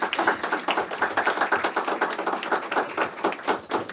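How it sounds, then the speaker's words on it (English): Audience at a school board meeting giving a round of applause, a close, brisk patter of many hands clapping continuously for several seconds with no talk. "Ladies and gentlemen, a round of applause."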